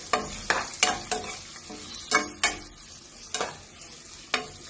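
Sliced onion fries in a pan with cardamom and curry leaves for a chicken stew, a steady sizzle broken by sharp, regular stirring scrapes about every half second, close and fairly loud.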